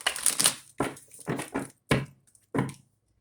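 Tarot cards being shuffled, heard close as several short, crisp riffling bursts separated by brief pauses, with no voices over them.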